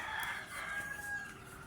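A rooster at a gamecock breeding yard crows in one drawn-out call, heard faintly from some distance with no talking.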